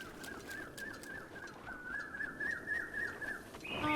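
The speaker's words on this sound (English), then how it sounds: "Oh, I love the sound of the like birds and stuff." Birdsong in a Zelda video game: a faint, steady series of high repeated chirps over quiet ambient background, followed at the end by a brighter tonal flourish.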